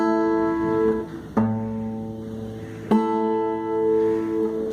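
Guitar strings are fingerpicked in a slow pattern, with a few plucked attacks and a low bass note among them, each left to sustain, close and clear with no talking.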